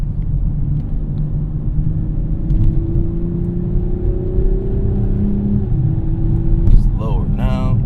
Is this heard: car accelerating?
yes